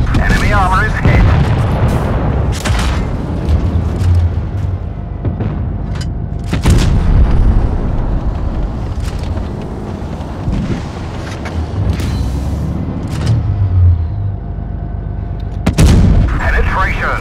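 Tank cannon shots and shell hits in an armored-combat video game: loud, booming blasts spaced several seconds apart, with crackling impacts and rumbling engine noise between them. A voice talks intermittently.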